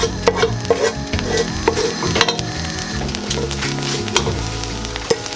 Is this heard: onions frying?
yes